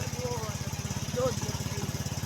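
A motorcycle engine idles nearby with a steady, rapid putter of even pulses, while voices talk faintly over it.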